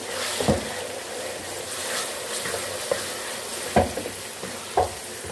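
Tomatoes tossed into a hot pan while cooking a home-style Indian dish, giving a steady low sizzle with occasional stirring scrapes and clinks of a spoon against the pan.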